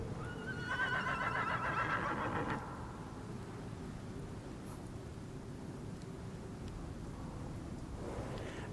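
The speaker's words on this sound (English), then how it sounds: "I kind of wish they had given the horse a slightly different sound other than a horse" A horse in the survival video game Icarus gives a loud, shaky whinny in the first few seconds, then fades into a steady windy ambience with no further calls.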